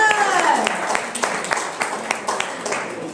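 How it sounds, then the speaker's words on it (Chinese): A small group at a skincare product presentation claps in loose, separate strikes, close and fairly crisp, after a short stretch of a voice at the opening. "所以接受大家的掌声"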